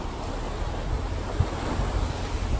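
Broad, steady wash of water and wind noise during a river crossing through mangroves in a coastal area, a continuous rushing hiss at moderate loudness with no speech.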